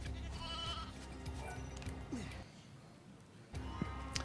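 Sheep in the video game Final Fantasy XIII-2 bleating in a couple of wavering calls over a background of game music and ambience, fairly close and clear, with a short pause between calls.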